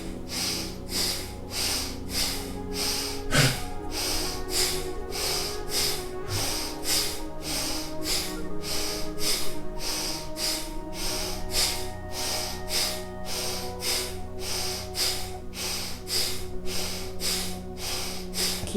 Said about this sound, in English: This is a lovely active breathing.